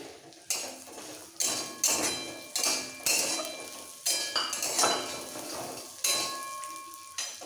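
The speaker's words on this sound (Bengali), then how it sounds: "এবার এই ঘিয়ের মধ্যে দিয়ে দেবো সিমুইটাকে একটু ভেজে নিতে হবে।" Vermicelli toasts in ghee in a pan for sweet payesh, a spatula clanking and scraping against the metal in a steady rhythm of knocks, roughly one to two per second, over a light frying hiss.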